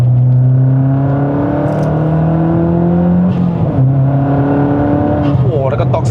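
A modified Mazda 3 MPS with torque steer accelerates hard on a Malaysian road, the engine note climbing steadily through the gears with a brief dip at a shift, loud and close from inside the cabin, while people talk over it.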